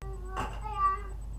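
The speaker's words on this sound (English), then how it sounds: "I can just hear the meow behind you." Cat meowing faintly in the background, a single drawn-out meow beneath a quiet hum, with a brief noisy burst just before it.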